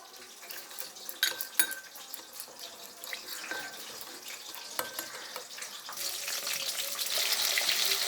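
Water poured from a tap into a small bowl to soak cumin powder while fish fries nearby, a thin splashing stream with light clinks, swelling louder toward the end.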